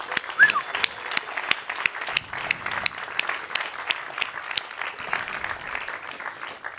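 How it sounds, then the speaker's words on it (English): At the Climathon Global Awards Ceremony, an audience gives scattered, individually distinct hand claps for the local organizers, sparse and uneven rather than a dense roar, moderately close in a quiet room. "I would like to have a big hand of applause for the unsung heroes of Climathon"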